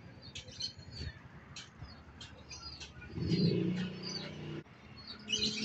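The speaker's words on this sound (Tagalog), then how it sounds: "Kalapati ko." Soft, low pigeon coos from a roof rise briefly in the middle, with scattered faint chirps and light background noise around them.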